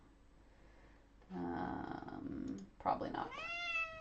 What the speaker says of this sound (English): My cat is also very vocal.